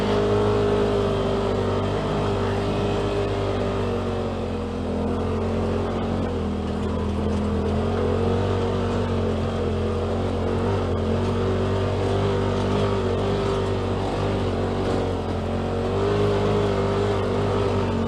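A 2018 Polaris RZR XP Turbo crawling off-road in low gear and four-wheel drive, its engine a steady droning hum with slight swells, heard close and continuous throughout.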